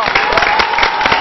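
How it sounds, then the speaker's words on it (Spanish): An audience at a dance class applauds with dense, steady clapping that fills the whole moment at full volume, close to the listener and without a break. "Un aplauso, por favor"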